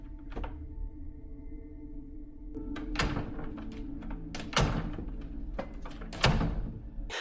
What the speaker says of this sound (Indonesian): Robert tiba-tiba mengetuk-ngetukkan pintunya 3 kali.